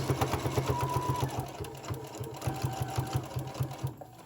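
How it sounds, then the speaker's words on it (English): Sewing machine back stitching a fabric pocket mask, with a steady rapid needle rhythm that runs forward, pauses briefly, then resumes in reverse, loud and close throughout. "I'm gonna just back stitch. So I'm gonna go forward a little bit, turn it"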